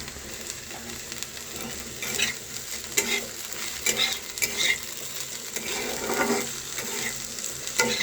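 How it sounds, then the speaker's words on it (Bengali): Okra frying in hot oil in a pan, a steady close sizzle with repeated scraping stirs and soft clinks of a utensil against the pan throughout. "ভেন্ডি ভাজাটা প্রায় আমার হয়েই এসছে"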